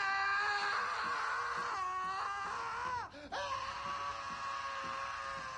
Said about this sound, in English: God, that scream though.